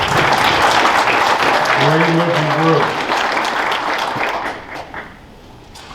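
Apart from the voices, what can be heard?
audience applause for banquet nominees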